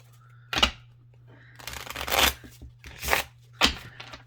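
Several quick bursts of a deck of thick oracle cards being shuffled and riffled close up, with brief pauses between, over a low steady hum.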